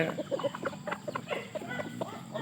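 A steady run of short, evenly spaced clucks from young roosters in a home yard at dusk, close and moderately loud, with soft background noise beneath.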